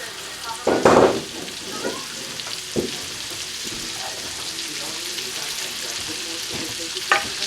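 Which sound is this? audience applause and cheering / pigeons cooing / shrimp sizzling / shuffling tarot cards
shrimp sizzling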